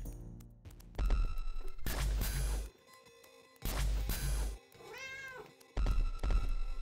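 A cat in the Resolutiion video game gives a clear, rising-and-falling meow between loud bursts of game music and metallic clangs, the call standing out in a quieter moment.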